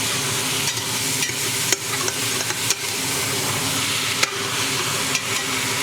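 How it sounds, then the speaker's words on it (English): Minced beef fries in a pan for bolognese, giving a steady close sizzle broken by scattered scraping knocks as it is stirred, with no talk. "Now I start stirring."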